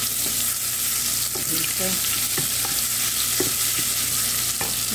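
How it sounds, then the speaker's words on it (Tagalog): Garlic sautéing in a hot pan: steady loud sizzling and frying hiss with occasional scrapes of a stirring utensil, close up, and a brief spoken word. "Magigisa na tayo. Gisa na tayo ng bawang."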